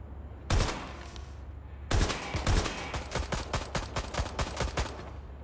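Gunfire coming from below in Watch Dogs Legion: two heavy single blasts, then a rapid, loud volley of closely spaced shots that keeps going to the end, with no voices.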